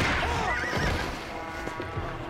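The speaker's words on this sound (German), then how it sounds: "Oh Gott, das Pferd lebt noch." A horse whinnies in Red Dead Redemption: Undead Nightmare on Xbox One, a loud, wavering neigh at the start that trails off, with faint hoof and ambient game sounds after it.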